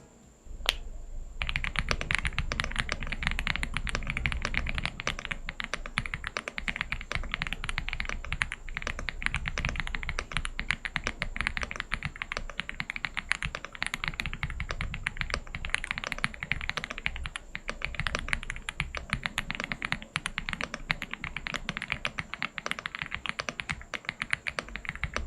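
Typing on a portable 75% hot-swap mechanical keyboard with PBT keycaps, a steady run of close, crisp keystrokes that carries on throughout with no talking.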